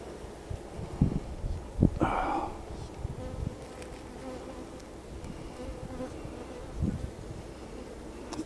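A steady, close buzz of many honey bees fills the hive, with occasional soft knocks and rustles over the continuous drone.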